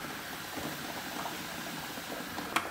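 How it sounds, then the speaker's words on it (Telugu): Onions with fenugreek, cumin and spice powders sizzle in a pan for a tomato egg curry, a steady dense crackling fry throughout with one brief sharper clink near the end. "చూస్తారు కదా చక్కగా ఫ్రై అవుతుంది"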